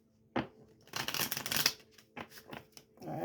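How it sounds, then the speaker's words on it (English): Someone shuffles a deck of tarot cards close by. Several quick, crisp riffling bursts are separated by short pauses and soft handling noises. "Now we're gonna shuffle this deck."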